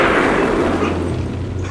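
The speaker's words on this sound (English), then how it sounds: "He cut the string, and there was an explosion." A parcel bomb goes off as the string on a small box inside a package is cut, a loud, close blast whose deep rumbling boom rolls on and slowly fades.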